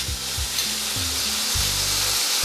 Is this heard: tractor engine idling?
no